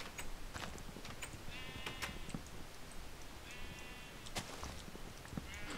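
Sheep bleat in Minecraft, two drawn-out wavering bleats over busy game noise and clicks, with no one talking.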